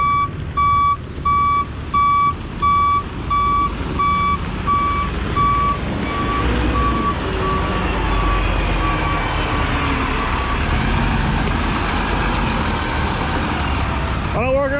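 A dump truck backs up at a quarry with its reversing alarm beeping in a regular pulse for several seconds. The beeping then stops and a loud diesel engine keeps rumbling close by.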